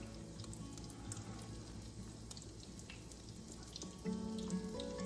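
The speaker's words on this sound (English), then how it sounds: "I'm going to put it in the oil. Yep. Isn't that nice? I love that sizzle." A breaded chicken cutlet fries in hot oil with a steady, close hiss and crackle, swelling into a louder, busier sizzle for the last second.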